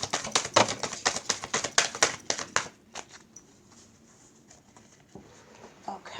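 Tarot cards being shuffled at close range, a rapid run of crisp, papery riffles and slaps for about three seconds that stops abruptly, followed by near quiet with a few faint handling taps.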